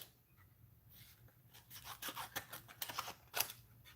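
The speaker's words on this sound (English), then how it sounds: "I'm just going to cut some strips." Scissors snip through paper strips for a handmade card, a quiet run of short crisp cuts and rustles that grow busier and louder toward the end.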